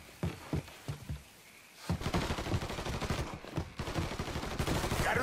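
Gunfire in the video game Mafia 3: a few scattered shots at first, then after a brief lull a dense, sustained burst of rapid automatic fire and overlapping shots, loud and continuous to the end.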